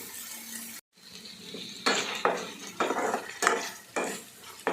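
Raw prawns stirred in a pan of frying oil, heard as a string of quiet metallic scrapes and clinks from a spoon against the pan, irregular and close, with a faint sizzle beneath.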